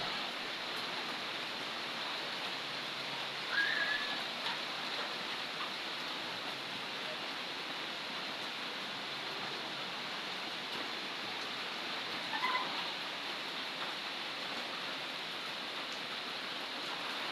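Heavy, unceasing rain pours down as a dense, even hiss that holds steady throughout, with a couple of faint high chirps briefly rising above it.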